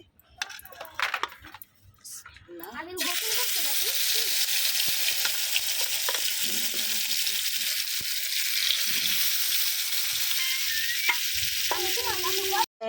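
Food hitting hot oil in a pan over a traditional clay stove bursts into a loud, steady sizzle that holds strong to the end, after a few quieter moments with faint voices and kitchen clatter.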